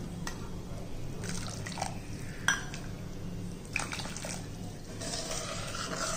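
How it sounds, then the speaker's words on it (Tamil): Two cups of hot water are poured into a cooking pot, heard as soft splashing and dripping with a few sharper clinks, fairly quiet and without talk. "சுடுதண்ணியை 2 கப் ஊற்றிக்கிடுவோம்."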